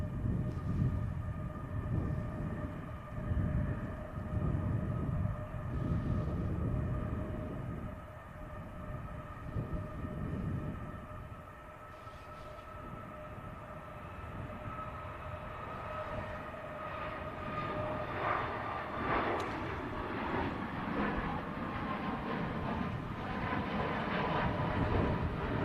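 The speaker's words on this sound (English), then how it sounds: "Just initiating the takeoff roll now." Airliner starting its takeoff roll at Manchester Airport, bound for Alicante, heard as a steady broad engine roar with rising tonal whine that builds and swells toward the end, heard from a distance.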